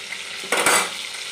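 Oil sizzles steadily in a pan of frying fish, with a brief louder burst of crackling and a metal scrape as the fish is lifted out.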